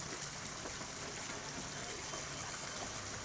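Rainwater rushing and gushing after a short heavy downpour in Tirumala Agaram, a steady broadband wash of flowing water, fairly quiet and continuous, with no voices over it.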